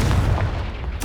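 A Confringo spell explosion in Hogwarts Legacy lands as a short, close booming blast with a rumbling low body. A sharp, bright burst follows right at the end.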